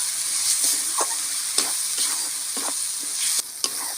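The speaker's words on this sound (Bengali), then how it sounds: "কাশ্মীরি লঙ্কা গুঁড়ো, নুন, ভালো করে আমি কষে নেব।" Kashmiri chili powder and salt frying in hot oil while being stirred for a new-potato curry, a steady close sizzle with a few scraping stirs throughout, no voices.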